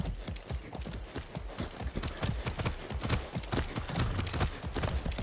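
Rapid clip-clop of horse hooves on a hard surface in Far Cry 6, a steady brisk rhythm close by, continuous throughout.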